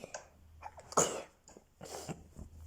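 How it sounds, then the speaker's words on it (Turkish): A single sharp sneeze bursts out near the start, followed by breathy sniffs and small throat sounds close by. "Arkadaşlar hapşırdım kusura bakmayın."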